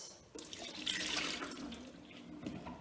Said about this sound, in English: I'm just going to give all the potatoes a good rinse with some warm water